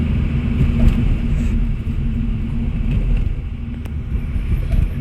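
Renault Megane RS280 Cup engine while driving in sport mode, a continuous close low rumble with road and wind noise throughout.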